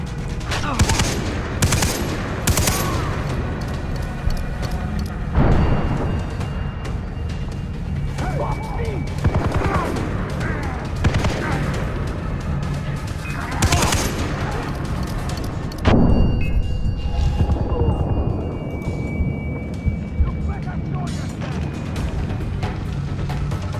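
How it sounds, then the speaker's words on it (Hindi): Video game Far Cry 3 combat: bursts of automatic gunfire and heavy explosions recur through the stretch, loud and dense, with someone talking excitedly over the action. "कम वक्तों नीचे में बम मार रहे हैं।"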